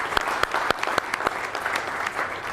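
Audience clapping at a stock market seminar, a short burst of scattered, fairly distant applause with a few sharp individual claps standing out.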